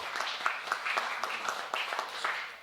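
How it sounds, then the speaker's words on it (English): A church congregation claps in a short round of applause, with distinct individual claps standing out over a fairly close, moderate patter that stays steady throughout. "Another round of applause"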